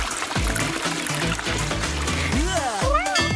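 Water poured into a dome-shaped aquarium, with splashing and trickling that is close and fairly loud and ends in a few gurgling bubbles.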